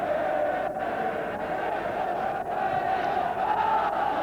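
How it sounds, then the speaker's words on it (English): Scottish football fans create a steady, distant roar of crowd noise at Ibrox stadium on a bitterly cold evening during a Scotland v USSR match, a dense wash of voices without clear peaks. "plenty of noise coming from the Scottish fans early on"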